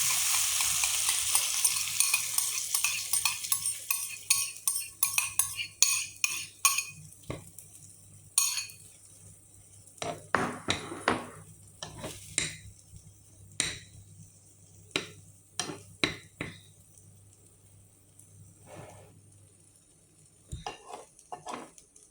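Two eggs frying in a pan during a morning cooking session, with a steady sizzle under repeated scraping and clinking strokes of a utensil against the pan, sharp irregular hits that thin out toward the end.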